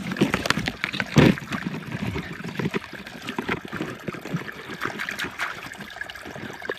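Water from a lake or pond runoff trickles and splashes nearby, with irregular gurgles and a brief louder splash early on, steady and close with no speech.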